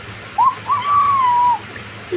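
A young child imitates a chicken's call with a short high squeak, then a longer drawn-out whistling cry that bends gently downward, heard close in a quiet room.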